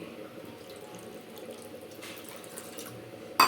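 Tap water runs steadily into a vessel to soak a lump of tamarind, roughly onion-sized, for a sour fish curry, a continuous splashing flow in a kitchen with a brief clunk at the end.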